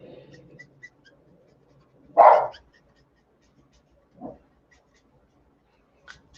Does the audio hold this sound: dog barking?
yes